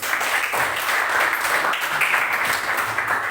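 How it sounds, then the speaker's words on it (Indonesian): A classroom of students claps for a group's answer during a biology lesson on genetic substance, a steady, dense patter of many hands filling the room for a few seconds. "Tepuk tangan dulu jawab jawabannya"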